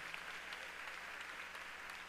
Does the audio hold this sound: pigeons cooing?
no